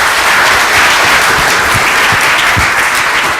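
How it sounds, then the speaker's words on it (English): Loud, close audience applause after a presentation at an event, dense and continuous clapping filling the whole short stretch with no talk. "Another round of applause,"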